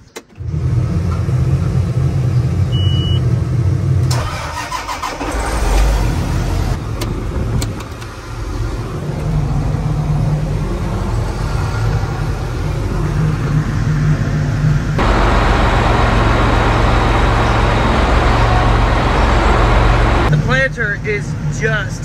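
A John Deere 8430 tractor engine turns over and settles into a loud, steady mid-pitched rumble whose tone shifts partway through, with a voice speaking over it.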